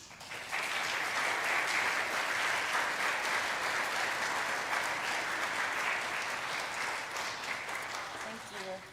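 A church congregation at a Unitarian Universalist worship service breaks into sustained applause welcoming a guest speaker, a dense steady wash of many clapping hands filling the room for several seconds before tapering off.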